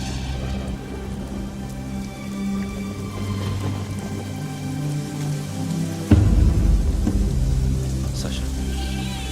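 Steady rain pours down in a film scene, a dense even hiss of drops on surfaces with a low rumble beneath, and it swells louder partway through.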